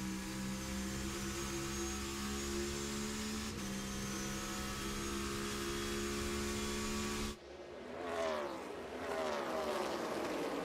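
Onboard engine of Chris Buescher's NASCAR race car at the 2024 Ally 400, a loud, steady high-revving drone with harmonic whine that drops briefly and rises again as the car lifts and accelerates.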